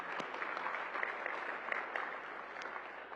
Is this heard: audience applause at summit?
yes